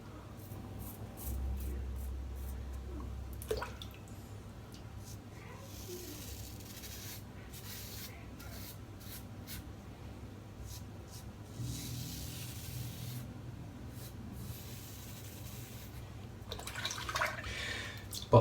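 A razor scrapes steadily across a scalp during a close-up head shave with RVT Frosty Bay Rum, making soft, wet, repeated strokes with no one speaking.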